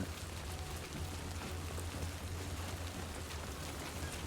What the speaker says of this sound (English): Damn, it's raining.